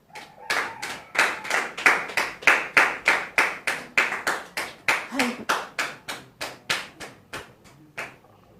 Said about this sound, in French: Merci de la recevoir sous vos applaudissements.